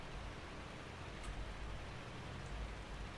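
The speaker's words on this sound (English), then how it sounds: "the rain was supposed to be done an hour and a half ago" Steady rain falls in Farming Simulator 22, a dense, even hiss of drops on surfaces that holds for the whole stretch without pause or voices.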